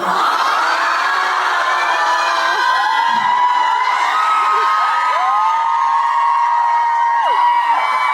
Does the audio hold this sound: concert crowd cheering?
yes